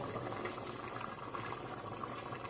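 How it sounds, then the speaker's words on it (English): A pot of fresh pineapple bubbling at a steady boil for water bath canning, a continuous soft gurgling and hiss with no talking. "Pineapple has been boiling for 10 minutes"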